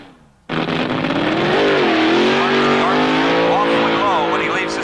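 A 1971 drag racer launching off the starting line, its engine roaring loud and steady with rising pitch and tyre squeal as it loses traction, under a commentator's voice.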